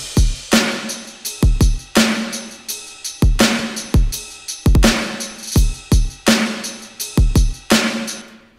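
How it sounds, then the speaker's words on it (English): Drum groove from a future bass song, punchy kicks and crisp snare hits repeating in a steady rhythmic pattern, loud and alone with no other instruments. "So the drums sound like this."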